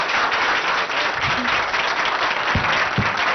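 Audience at a hospital foundation-stone event in Kusumanchi, Khammam, breaking into steady, dense applause that holds at full strength throughout, loud and close, with a few faint voices underneath.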